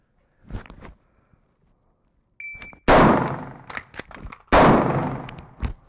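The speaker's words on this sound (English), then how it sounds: "I'll be shooting the middle right circle, so it's a little smaller than what we were just shooting, and then executing that reload" Loud, close gunshots ring out at a shooting-range target, each sharp crack followed by a short ringing tail, with small metallic clicks and a clack from a magazine reload between the shots.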